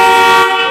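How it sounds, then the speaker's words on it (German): A Hyundai car horn sounds after being rewired: a single loud, close, steady honk lasting under a second. "Jetzt müsste die Hupe, wenn die Hupe jetzt noch funktioniert"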